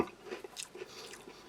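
A small, crisp, sweet vanilla cookie from a German Einmannpackung Type 2 ration being bitten and chewed up close, a few short crunches and soft mouth sounds, no talking.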